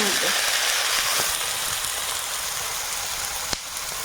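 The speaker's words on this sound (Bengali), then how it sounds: "লবণ আর মশলার সঙ্গে কাঁকড়াটা একটু ভালো করে ভাজবে" A river-caught crab fries with salt and spices in hot oil, giving a loud, steady sizzle close up, with a few faint clicks and a soft voice under it.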